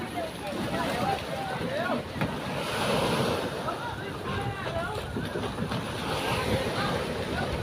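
Sea waves wash and surge continuously nearby in Dong Tan Bay, where children train on sailboats, mixed with wind rumble and scattered voices in the background.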